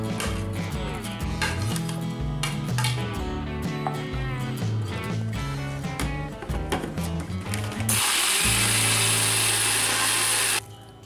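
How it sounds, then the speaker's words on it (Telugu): Background music plays first, then a mixer grinder roars loud and steady for about three seconds, grinding garlic, ginger, coriander seeds, cumin, green chillies and onions, before cutting off. "ఇప్పుడు వెల్లుల్లిపాయలు, అల్లం, ధనియాలు, జీలకర్ర, పచ్చిమిర్చి, ఉల్లిపాయలు మిక్సీలో వేసి 2 నిమిషాల పాటు గ్రైండ్ చేసుకోండి."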